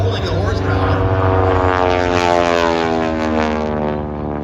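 A 450 hp Pratt & Whitney R985 radial engine drives a Boeing Stearman aerobatic biplane past at an air show, a loud continuous propeller drone with shifting pitch, steady and close throughout.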